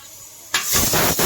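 Rice is washed in water. After a quiet start, a sudden loud splashing, sloshing rush of water begins, with grainy swishes close by and no talk.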